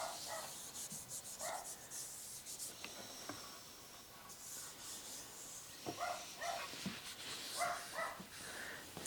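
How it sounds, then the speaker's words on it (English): Sanding the back of a wooden guitar body from a DIY guitar kit: steady scratchy rubbing strokes at low level, with a few faint tonal blips in the background. "I will go ahead and come back to you after I finish sanding the back here."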